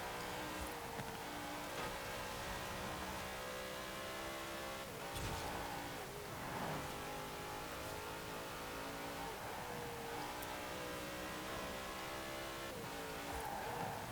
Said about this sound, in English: it also means that the engine sounds better as well